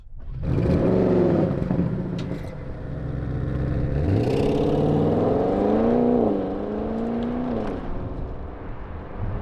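An Audi RS6 GT wagon drives hard on winding Spanish canyon roads, its engine loud and close as it revs and climbs through gears, with rising and falling pitch and no talking.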